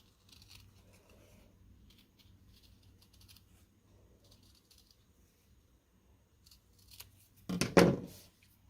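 Scissors cut through a fabric mushroom stem for an appliqué piece, a short burst of close, crisp snipping near the end after a long stretch of near silence.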